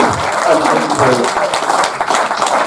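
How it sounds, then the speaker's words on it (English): Crowd applause at a speedway remembrance gathering, a lively scatter of claps heard close and loud, with voices mixed in among the clapping. "Big round of applause for Ben Jansen."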